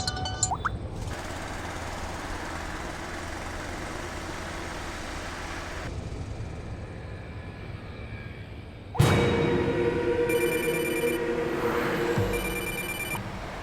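Mobile phone ringing inside a car: a repeating electronic ringtone over steady engine and road rumble, cutting off briefly before resuming with a brighter, louder ringing pattern, with no voices.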